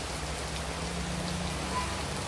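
Heavy rain pours down in a steady, even hiss of countless drops that holds constant throughout without any voices.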